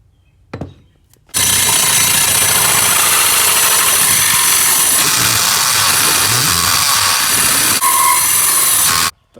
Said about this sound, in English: drill up through the middle, and that'll give me a guiding hole to then attach this hole saw